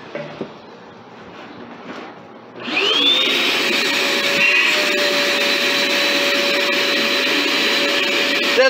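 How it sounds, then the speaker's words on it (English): A household vacuum cleaner switches on after a quiet stretch, then runs with a loud, steady whining drone and a sustained high-pitched tone, close by, with faint background sounds before it starts. "Are you afraid of the vacuum"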